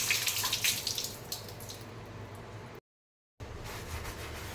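Water runs from a tap over scrubbed stainless steel, a close hissing splash that briefly drops out before resuming.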